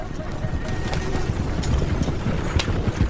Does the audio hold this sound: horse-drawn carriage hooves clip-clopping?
yes